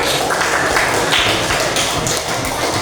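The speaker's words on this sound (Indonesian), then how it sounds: "kita kasih aplaus untuk kelompok 3" Applause for a presenting group in a classroom, a loud, dense burst of clapping that carries on steadily and evenly throughout.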